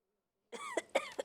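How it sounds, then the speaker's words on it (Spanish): A short burst of coughing, three quick hacks after a brief silence, close and fairly quiet. "Hasta tos me dio."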